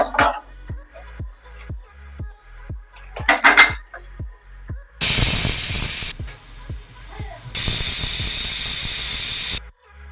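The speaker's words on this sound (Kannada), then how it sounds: "ಇವಾಗ ಇದನ್ನು 3-4 ವಿಸಿಲ್ ಒರೆಸ್ಕೊಳ್ಳೋಣ" A pressure cooker cooking dal on a stove, heard first as a series of short rhythmic hissing puffs, then two long, loud steam whistles with a brief gap between them.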